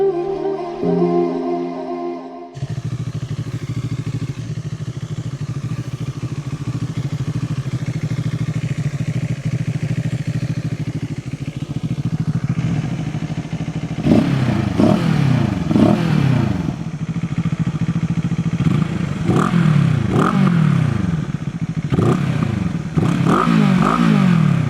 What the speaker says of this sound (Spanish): El corazón de la Dragster es un motor bicilíndrico en línea de 698